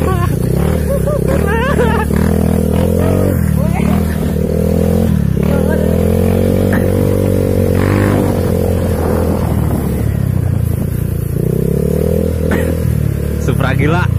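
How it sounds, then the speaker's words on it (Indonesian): A Honda Supra motorcycle engine labouring up a steep mountain road, a loud continuous droning hum that rises and falls with throttle changes, close up, with voices chattering over it. "Motor Supra naik gunung."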